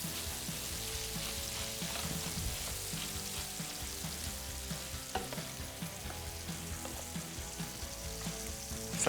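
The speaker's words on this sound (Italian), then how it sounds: "Posso aggiungere la salsiccia. La faccio dorare per bene." Sausage browning in hot oil in a frying pan, with garlic and fresh thyme, gives a steady, close sizzle and crackle that runs the whole time, with a few stirring clinks and no talking.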